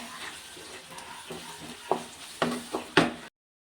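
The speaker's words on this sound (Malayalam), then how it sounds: "ശർക്കര അപ്പോൾ ഒന്ന് ഇളക്കിയിട്ടോട്ടെ" Jaggery being stirred into lime pickle in a pan, soft scraping and wet stirring with a low simmering hiss, a few sharper spoon knocks toward the end, close and fairly quiet.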